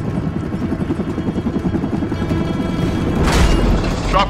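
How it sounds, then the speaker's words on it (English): Helicopter rotor thump from the video game Army of Two: The Devil's Cartel, a steady low chop that swells louder toward the end amid a burst of bright noise, with no talk over it. "Chopper incoming."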